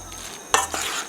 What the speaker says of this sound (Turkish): Bir güzel kızartalım. Tavamı ve yağımı ocağa koydum.